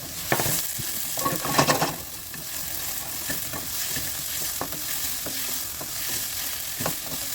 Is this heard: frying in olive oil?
yes